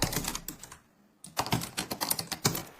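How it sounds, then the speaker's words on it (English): Fingers typing on the butterfly keyboard of a 2017 MacBook Pro, quick crisp clicking keystrokes in close, quiet bursts separated by a brief pause. "I think the typing sound of the butterfly keyboard is very crisp."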